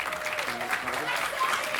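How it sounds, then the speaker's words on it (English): Applause for the final act at a live furry convention show, a steady moderate clapping crowd with voices talking over it throughout. "Please give a huge round of applause to Emmanuel."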